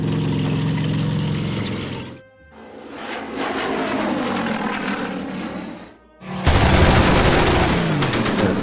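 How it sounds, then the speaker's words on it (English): Gunfire and aircraft engine roar in the WW2 strategy game Order of Battle, with dense bursts of loud firing in three blocks separated by brief near-silent gaps. "It looks like he's shooting at him"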